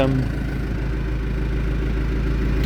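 An old car's engine idles on a cool morning, its weak alternator not yet charging, with a steady, even low rumble running close and unbroken throughout.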